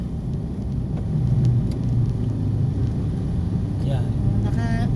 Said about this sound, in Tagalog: Araw-araw na lang, napaka-traffic.